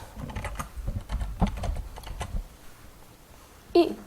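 Typing code on a computer keyboard while writing a first C++ program: a soft, irregular patter of keystrokes for a couple of seconds, quieter afterward, ending with one sharper click.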